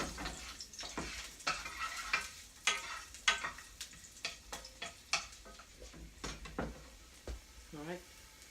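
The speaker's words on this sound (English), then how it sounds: "Sizzle, sizzle, sizzle." Garlic sizzles in a skillet while being stirred, a soft frying hiss broken by repeated clicks and scrapes of a utensil against the pan, close and fairly quiet.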